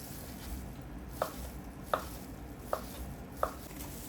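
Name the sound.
cutting string cheese for kunafa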